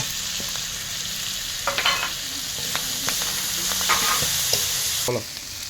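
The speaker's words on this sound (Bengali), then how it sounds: "এই রসুন বাটাটা দিলাম।" Garlic paste fries in a pan for a fish curry, giving a steady close sizzle with brief scraping stirs and clinks partway through and no talking.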